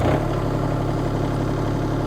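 Toro Dingo TX 1300 compact utility loader's engine catches and settles into a steady, loud idle, a continuous low rumble with a dense mechanical drone throughout.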